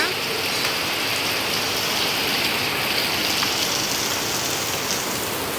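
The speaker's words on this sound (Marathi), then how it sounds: "तर बघू शकता काय यो पाऊस लागता" Steady, dense rain pours down without a break, a loud even hiss of drops drumming on surfaces close by.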